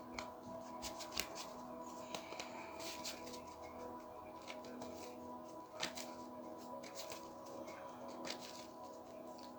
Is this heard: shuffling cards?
yes